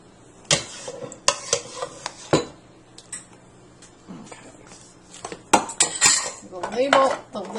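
A metal ladle and then a spoon scrape vegetable lasagna sauce from the bottom of a pot, giving irregular clinks and scrapes in short bursts with quiet gaps between, close and moderately loud.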